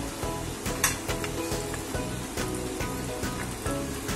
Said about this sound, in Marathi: अशा मंद ह्याच्यावरती तळून घ्यायचे.